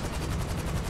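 Rapid automatic gunfire from the GTA 5 Online video game, a dense, continuous burst of shots lasting about a second at steady loudness, with no talking.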